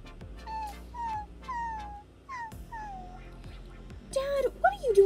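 Dogs whimpering and crying in a series of high, falling whines, growing louder and more strained near the end, with talk mixed in.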